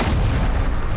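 Heavy gunfire from the video game Duet Night Abyss, a dense, booming barrage that fills the whole short moment at steady loudness with no pauses.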